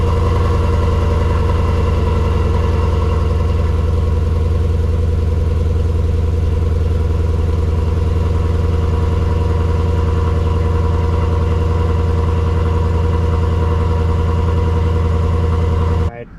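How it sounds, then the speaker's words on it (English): A 2019 Ford Mustang GT Premium with aftermarket Corsa Xtreme exhaust idles after an early-morning cold start, a deep steady burble that holds loud and even before cutting off abruptly at the end. "we're going to give you a cold start with these Course Extremes on my Mustang GT"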